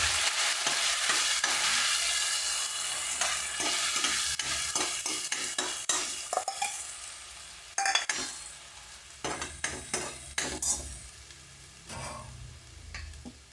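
Coconut and onion masala paste with curry leaves frying in hot oil, a steady bubbling sizzle broken by repeated scrapes and stirring clatter of a spoon against the pan.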